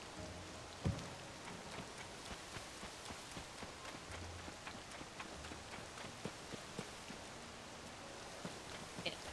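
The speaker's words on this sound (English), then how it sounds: "Rains here so much." Rainfall in the video game Tears of the Kingdom, a faint steady patter of drops with scattered sharper taps and a few soft thuds, no voices.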